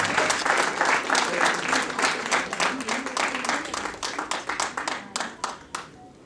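An audience at a stage program of Gujarati poetry bursts into sustained clapping for Kunal Shah, dense and lively at first, then thinning into scattered claps before fading out.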